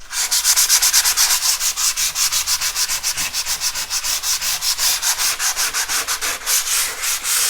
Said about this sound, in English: I'm just going to go back in and sand it.